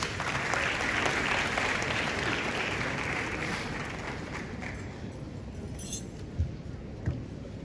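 An audience at a launch event in Ghana applauds as Dr. George Amo of the Peace Council's governing board joins, giving a dense, steady wash of clapping that eases slightly in the second half, with a couple of sharper claps near the end.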